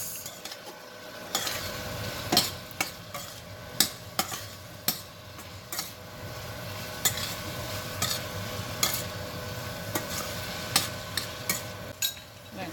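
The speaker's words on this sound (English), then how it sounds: "garlic, green peppers, red peppers. Give that all a mix." Garlic with green and red peppers stirred in a hot pan, a steady soft sizzle broken by regular scraping knocks of the spoon against the pan, close and alone with no talk.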